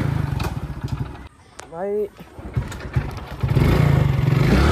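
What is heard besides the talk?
motorcycle engine in Free Fire video game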